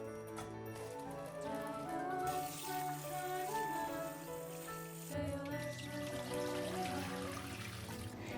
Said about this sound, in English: Then prepare the spinach by washing it thoroughly.